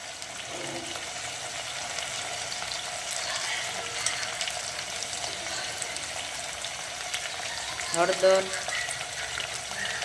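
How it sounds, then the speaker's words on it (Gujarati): Food frying in a pan with turmeric and spices being mixed in produces a continuous broadband sizzle, fairly loud and steady, with a brief stirring clatter near the end and a voice talking intermittently. "એને આમાં જ તળવા દેવાના થોડા"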